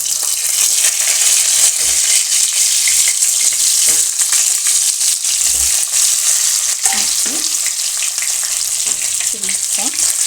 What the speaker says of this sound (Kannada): ಇದು ಫ್ರೈ ಆಗಲಿ ಒಂದು ಸೈಡು ಚೆನ್ನಾಗಿ ಫ್ರೈ ಮಾಡೋಣ ಎರಡು ಸೈಡು ಫ್ರೈ ಮಾಡೋಣ